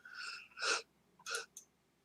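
A person sneezes in a few short, sharp bursts, fairly faint and slightly distant, with a brief sniff-like sound between them and no talking.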